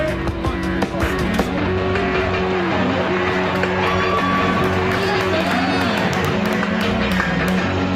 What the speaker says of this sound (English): A raucous crowd ready to see the Georgia Bulldogs on a warm afternoon here in Athens, GA